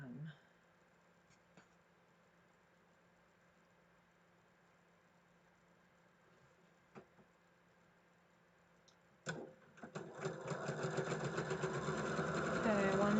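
A sewing machine sits quiet behind a low hum, then starts after a sharp click and runs in a fast, rapid stitching clatter that grows steadily louder.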